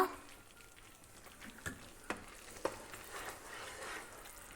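Beetroot halwa with ghee being stirred in a pan, a quiet low sizzle broken by a few soft scraping and tapping strokes of the spoon, faint and close, with no talking.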